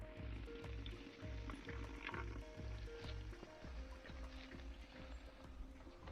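Water running into a bottle at an outdoor fountain along a hiking trail near Monte di Fo', a steady close trickle and splash with a low rhythmic pulsing underneath, no talk.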